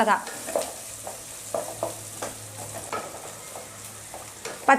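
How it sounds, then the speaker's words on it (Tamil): Green chillies sizzle in a hot pan with a soft, steady frying hiss, joined by intermittent scraping and stirring taps from a spatula, close and moderately quiet. "பச்சை மிளகாய் நல்லா வதங்கட்டும்"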